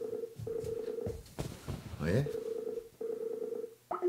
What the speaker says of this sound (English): Oh, he's ringing.